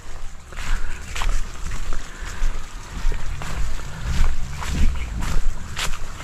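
An irrigation pump engine runs steadily with a low throb, mixed with splashing water and occasional knocks and clatters nearby.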